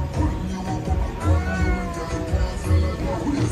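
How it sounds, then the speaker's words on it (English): Two cats fighting at a riverfront market, giving loud, drawn-out yowls and wavering meows in several bursts over background crowd noise, with faint voices in the mix. "That cat will not let up on that other cat,"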